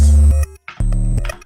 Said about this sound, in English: it adds like kind of that phasery like type stuff